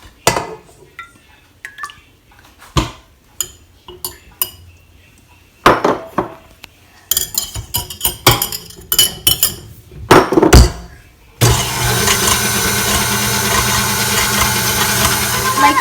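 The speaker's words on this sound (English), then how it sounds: "you're going to want to beat your eggs and your cardamom powder on 3" Eggs and cardamom powder for vattalappam, first with scattered clinks and taps of bowl and utensils, then a stand or hand mixer on speed 3 kicks in with a loud, steady whirring drone for the final few seconds.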